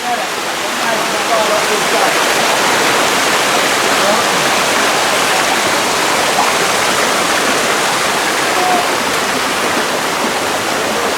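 A small waterfall on a river stream at Bluefields, Westmoreland, Jamaica, rushes in a loud, unbroken roar of tumbling water that stays steady and close throughout.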